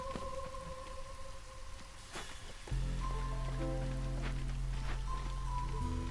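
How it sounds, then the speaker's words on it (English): Steady rain falls in the video game Against the Storm, a soft continuous patter under tonal game music that swells and thickens partway through, with no speech. "I know it's raining right now, but no, it gets worse."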